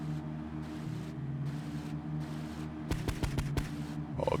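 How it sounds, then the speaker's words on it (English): Rapid bursts of boat cannon fire in GTA III Definitive Edition, a quick cluster of sharp blasts over a steady engine drone. "LB to fire cannons"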